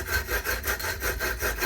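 A cheap mitre box saw cuts through wood with steady, close back-and-forth strokes, about ten even rasping passes in under two seconds, with no voices.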